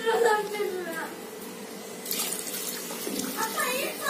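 Water pours steadily into a pot of soaked rice while cooking mushroom biryani at home, a continuous splashing close by with faint background voices.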